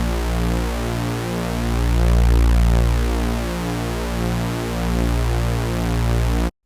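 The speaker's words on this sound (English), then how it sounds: "Otherwise, see how the sub-bass here is wobbling around?" A detuned Serum supersaw bass with its sub-bass phasing, producing a steady dense drone whose low end slowly swells and wobbles in level, heard alone until it stops abruptly.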